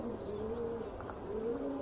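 Domestic pigeons coo softly near a dovecote, a pair of low rolling calls rising and falling over steady outdoor background noise, heard alone without voices.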